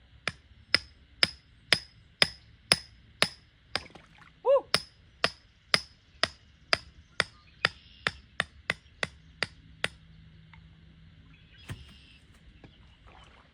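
A hammer strikes repeatedly while a trapline set is built near floodwater, about twenty sharp, close, evenly paced blows with a short pause midway. A man briefly whoops between strikes.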